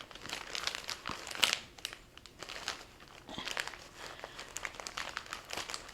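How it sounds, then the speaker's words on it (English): A plastic project bag crinkles close by in repeated bursts of crackling rustle as it is handled, fairly quiet, with short pauses between the crinkles. "Sorry about the crinkling."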